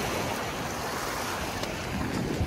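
Black Sea waves at Sochi on a summer day wash against the shore as a continuous, fairly loud surf roar, mixed with wind buffeting the microphone, with no talking.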